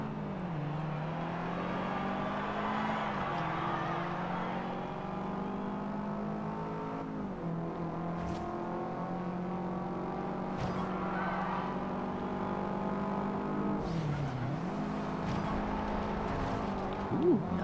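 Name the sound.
race car engines during a race in Forza Horizon 2 video game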